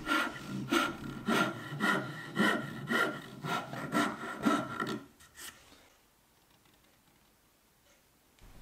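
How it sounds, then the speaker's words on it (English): Round file rasping a wooden taper in rhythmic back-and-forth strokes, about nine close strokes over five seconds, then quiet. "I could then refine the taper using a round file."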